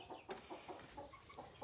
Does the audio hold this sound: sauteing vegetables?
no